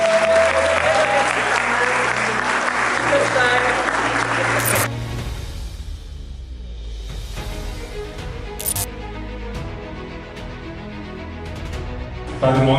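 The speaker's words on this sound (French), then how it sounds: "Nous vous demandons de les acclamer très fort" Audience applause at a Canadian film festival, loud and sustained clapping from a large crowd, with scattered cheers and a voice briefly heard partway through.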